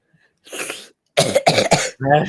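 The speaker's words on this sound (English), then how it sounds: "Just intense coughing." A run of intense, harsh coughs, close and loud: one rough burst, a short pause, then three rapid hacks and a final strained cough.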